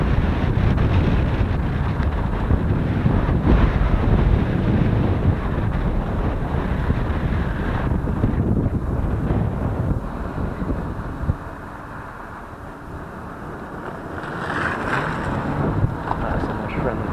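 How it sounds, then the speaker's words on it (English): Wind roars over a small SJCAM SJ4000 action camera held out a moving vehicle's window, a loud steady low buffeting that eases slightly midway, with a voice faintly talking beneath it. "I don't know if you can hear me through the wind."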